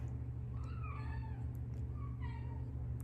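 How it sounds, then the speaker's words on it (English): A Himalayan cat meows in two drawn-out, wavering calls indoors, close to the listener and fairly soft, over a steady low hum. "You can probably hear my cat meowing."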